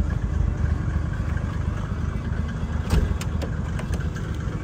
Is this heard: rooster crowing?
no